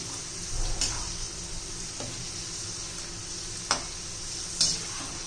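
Ingredients for poha chivda frying in hot oil, a steady close sizzle with occasional clinks and stirring taps of a utensil against the pan.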